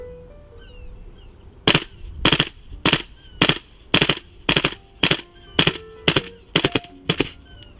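A Tokyo Marui M4 MWS gas blowback airsoft rifle fires on full auto in cold weather with a standard magazine, giving about eleven loud, close, sharp bursts at an even pace.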